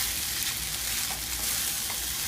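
Vegetarian fried rice with added granola fries in a pan, giving a continuous close, loud sizzle with crackling and no break across the whole stretch.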